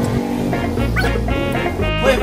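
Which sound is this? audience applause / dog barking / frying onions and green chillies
dog barking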